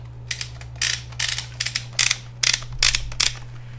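The plastic ratchet on a PlayStation VR headset strap is loosened in a series of sharp, close clicks, coming in short irregular bursts over a low steady hum.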